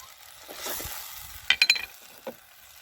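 Ground coriander and chili powder sizzle in a hot pan for a budamkaya curry, a soft frying hiss with a short burst of crackling and a stir partway through, fairly faint.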